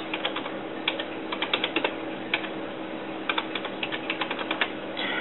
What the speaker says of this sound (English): type it in here. So type in the IP address.